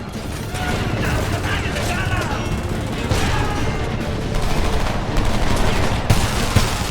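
Dense gunfire in a first-person shooter game, with rapid bursts, heavy impacts and clattering mechanisms layered continuously, and shouting voices over the battle.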